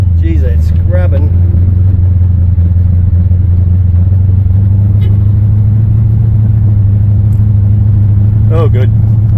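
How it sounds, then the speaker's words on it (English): A one-tonner tray truck drives along with a loud, steady low engine and road rumble, broken by brief scrubbing squeals from the front tyres as it turns; someone talks over it. "Apart from the fucking tyres scrubbing in the front when I turn, that's driving along quite nicely."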